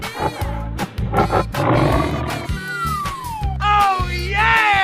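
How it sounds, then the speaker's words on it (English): A cartoon tiger lets out a drawn-out growling roar over lively background music, with sweeping tonal effects toward the end. "tiger"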